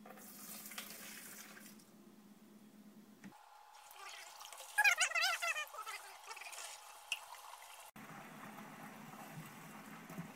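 Hot water pours and splashes into a pump sprayer at close range, a steady trickle that swells into louder gurgling bursts midway, with no talking.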